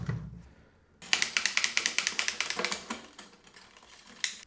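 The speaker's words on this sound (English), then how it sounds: "So I've got my automotive torque wrench. Listening for the click." Rapid ratcheting clicks from an automotive torque wrench working on a flip bike, a fast close run of sharp ticks after a second of quiet, then a few slower clicks and a final snap.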